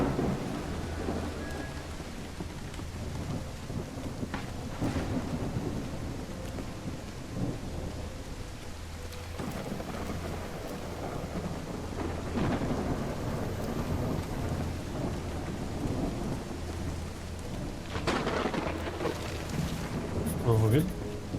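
Video game rain and thunder: steady heavy rain with rolling thunder rumbles building and fading throughout, loud and continuous, with a few faint voices underneath.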